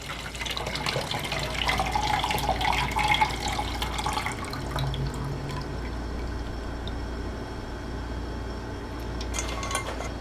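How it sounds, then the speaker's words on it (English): Cooled parsley tea strained into a measuring cup, a continuous trickling pour with light clinks of a strainer or cup, steady at first and thinning toward the end, close and moderately loud. "So you're going to strain your parsley tea after it's cooled for 20 minutes."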